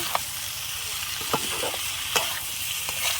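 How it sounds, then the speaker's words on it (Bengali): Potatoes and tomatoes sizzle steadily in a hot pan while a utensil scrapes and stirs with occasional clinks against the metal. "আলুটা কষিয়ে নেব বন্ধুরা"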